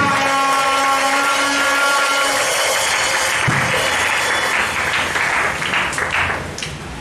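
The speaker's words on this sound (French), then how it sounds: "Est-ce qu'on va acclamer pour la gloire de Dieu?" Church congregation at a New Year's Eve worship service applauding and cheering, a dense, loud wash of clapping and voices with sustained musical tones underneath, fading slightly toward the end.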